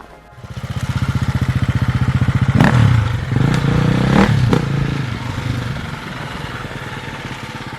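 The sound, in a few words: motorcycle riding past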